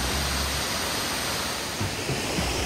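Waterfall number 3 at Bega Falls pours in a steady, dense roaring rush of water that stays constant and close throughout, with no voices.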